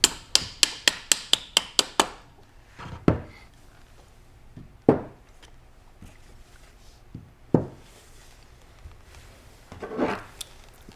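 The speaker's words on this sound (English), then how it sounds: "which I like to use a rawhide or a nylon hammer" A rawhide or nylon hammer taps the magazine spring retainer of a Benelli Super Black Eagle 3 shotgun back into place: a quick run of about ten close, sharp taps, then a few isolated knocks and handling clicks.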